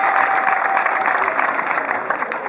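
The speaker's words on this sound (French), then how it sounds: "laissez-les applaudir, elles ont raison d'applaudir" A crowd applauding at a town hall ceremony marking the donation of medical equipment, a bright, even wash of clapping with faint cheering and murmured voices mixed underneath.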